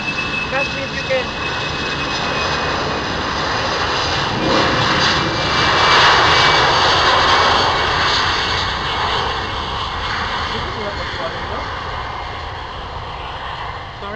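Airplane engine roaring at Mactan Cebu Airport, a loud, steady broadband rumble that swells and fades slightly over the whole stretch, with people talking faintly beneath it.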